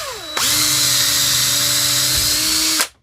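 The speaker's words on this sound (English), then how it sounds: "I'm going to just make this hole bigger with a drill bit" A power drill whirs up and spins steadily at high speed for a couple of seconds, enlarging a hole to pass a power cable through, then cuts off abruptly.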